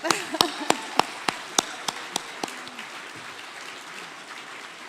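Sparse, scattered clapping from a small part of the audience at a Scottish charity awards ceremony: about nine sharp, separate claps at a steady pace that fade away after a couple of seconds into quiet room sound.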